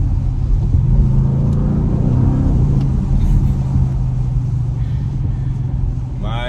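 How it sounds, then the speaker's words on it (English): A steady, loud low rumble comes from an Audi RS 6 Performance 4-liter V8 heard from inside the car on a rainy day, droning under a voice. "Just something about a 4-liter V8, man."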